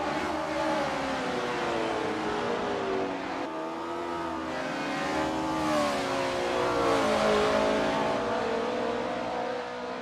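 Several RSS 1970 V8 race cars in a sim racing game at Kyalami roar continuously at close range, engine notes rising and falling through gear changes as two cars battle through the corners, with no speech.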